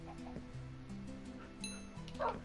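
Dogs yip and bark intermittently in the Minecraft video game on PS4, short game sound effects over a steady low background hum with no voices.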